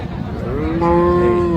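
A Friesian cow at a cattle market gives a single loud, drawn-out moo that rises and holds steady, close by, with faint crowd murmur underneath.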